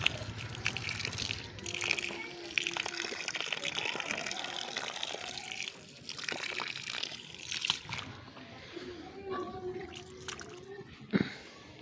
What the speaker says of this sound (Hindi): मोटर चलाओ जल्दी करो।